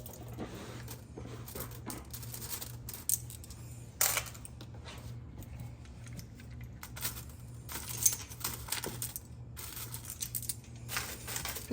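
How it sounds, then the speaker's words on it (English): Glass marbles and small tumbled beach rocks clink and rattle as they are picked out by hand, giving intermittent close hard clicks and jangling bursts over a low steady hum. "Picking out all the glass marbles we used for cushioning."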